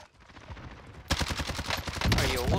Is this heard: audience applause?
no